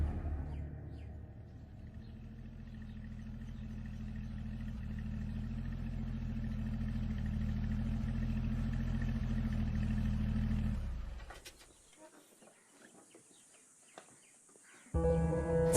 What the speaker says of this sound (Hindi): गाड़ी निकलवा।